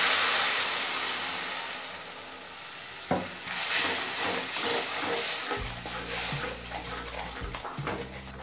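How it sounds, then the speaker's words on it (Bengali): Spices mixed with a little water are stirred in a pan: a soft, continuous sizzle and hiss with scraping, a sharp clack partway through, then a deeper rumble of heat under the mixture. "জল দিয়ে সমস্ত মশলা মিশিয়ে নিয়েছি।"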